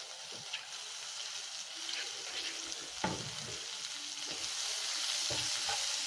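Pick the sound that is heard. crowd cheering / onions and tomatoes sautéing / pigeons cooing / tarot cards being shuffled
onions and tomatoes sautéing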